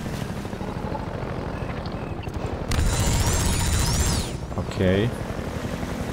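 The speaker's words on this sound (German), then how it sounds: "Oh, shit, den Helikopter wieder." A helicopter flies in Half-Life 2, with a throbbing rotor drone that swells into a louder burst with whooshing sweeps and a crash-like hit. Someone speaks over it.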